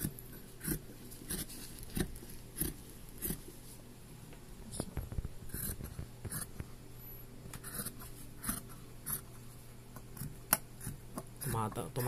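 Scissors cut fabric laid out for dolphin shorts, making quiet, repeated snips and crisp clicks with some faint background noise.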